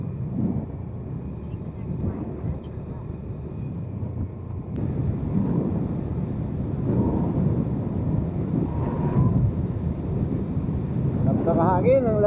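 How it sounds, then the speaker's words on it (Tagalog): Outdoor wind buffets the microphone in a continuous low rumble with gusts that swell and ease, heard outside near the Christ the Redeemer statue in Guagua, Pampanga, with a voice speaking faintly at the very end. "mahangin, ang lamig."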